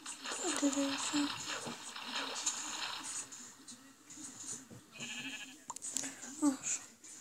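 Sheep bleat several times, mid-distance, with wavering calls repeating through the stretch while a person talks over them.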